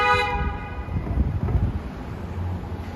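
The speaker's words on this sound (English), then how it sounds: "honking is perfectly okay in New York" Horns honk on a busy Lower Manhattan street in New York City at night, a loud sustained blare at the start over a steady rumble of traffic.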